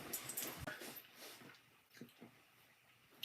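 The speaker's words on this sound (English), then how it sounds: "I've got my dogs here on the floor." Dogs lying on the floor whimper and yip softly in brief, scattered whines, faint and close, with light shuffling noises between them.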